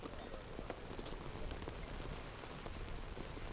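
Steady rain patters down on a disc golf course during a tournament round in Turku, an even, close hiss of drops with no pauses.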